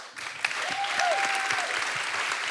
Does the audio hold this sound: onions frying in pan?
no